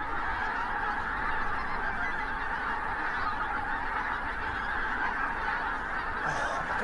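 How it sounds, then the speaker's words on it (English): A huge flock of geese, thousands strong, honks continuously against an autumn sky, a dense, unbroken clamour of overlapping calls from a distance. "Glowing geese in front of a glowering sky."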